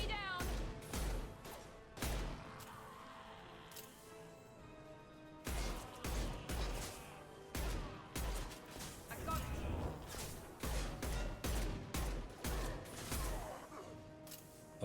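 Mass Effect 2 combat: repeated sharp gunshots and heavier grenade-like blasts land in irregular bursts, loud and close, with someone talking between them.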